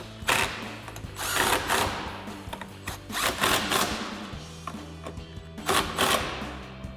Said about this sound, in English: Now you're going to take your 13 millimeter again on your gun. Tighten the top one up.